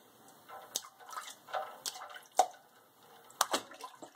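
A baby splashes in bath water, with irregular bursts of sloshing and slapping at close range and quiet gaps of dripping between them.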